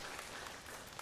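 Applause at a primary school formal assembly, a faint, steady patter of many hands clapping at a distance, continuous and even.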